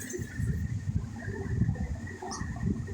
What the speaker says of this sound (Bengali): এই আমার কবুতরগুলা